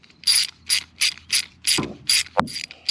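A ratchet loosening a bolt on a Ford F-series pickup tailgate, with a rapid series of close, crisp clicks repeating in regular bursts and a couple of duller metallic knocks between them.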